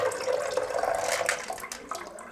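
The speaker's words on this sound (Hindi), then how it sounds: "200 ml आपने पानी डाल लिया।" Water poured into a shaker bottle while mixing a homemade pre-workout drink, a steady splashing pour of about two seconds at close range with no talking.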